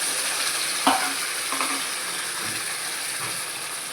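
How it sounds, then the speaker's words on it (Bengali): Spice paste dropped into very hot mustard oil in a wok sizzles steadily with a bright hiss, a couple of sharp splattering pops early on, then a constant frying crackle alone. "এবার আমি এখানে বাটাগুলোকে এক এক করে দিয়ে দিলাম।"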